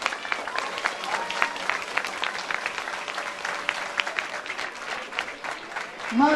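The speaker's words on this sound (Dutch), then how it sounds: "Dames en heren, mag ik toch een warm applaus" A crowd applauds steadily throughout at a youth election announcement in Winksele-Delle, Herent, Belgium, dense clapping with a faint tonal hum in the background and a brief swell near the end.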